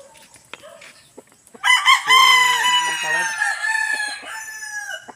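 A fighting rooster crows loudly and close at hand, one long drawn-out cock-a-doodle-doo in the middle of the clip, with scattered clucks and light background noise before it.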